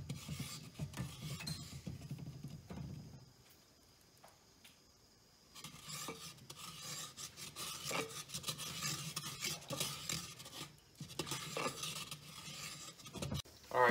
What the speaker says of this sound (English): you want to stir it up so that all of it gets evenly cooked